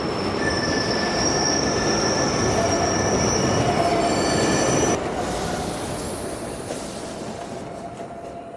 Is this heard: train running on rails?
yes